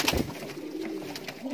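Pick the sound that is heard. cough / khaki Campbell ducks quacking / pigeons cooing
pigeons cooing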